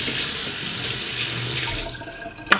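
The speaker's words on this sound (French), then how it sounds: "La solution, c'est de faire passer l'oignon et le couteau sous l'eau froide." Cold tap water runs steadily over an onion and a kitchen knife in a sink, a continuous close splashing stream that thins out near the end with a brief clink.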